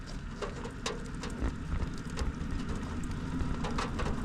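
Rain falls outside beside a 2002 Volkswagen EuroVan, a soft continuous patter with scattered sharper drops ticking on nearby surfaces, fairly quiet and steady with no talk.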